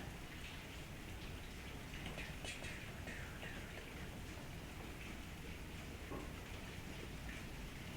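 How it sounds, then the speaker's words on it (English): Steady rain falls and patters on surfaces on a rainy day, a dense continuous hiss with scattered drop taps throughout and no voices. "At least you can enjoy the rain."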